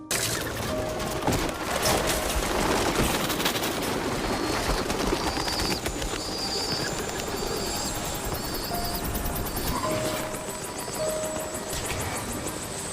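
A flock of pigeons cooing and fluttering over a steady loud background roar, with intermittent high tonal calls throughout.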